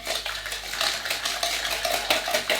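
Golden caster sugar and egg yolks whisked by hand in a bowl, giving quick, continuous rhythmic scraping and clinking strokes, close and fairly loud, with no talking.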